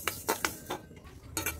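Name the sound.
roasting coriander seeds in a pan for mango pickle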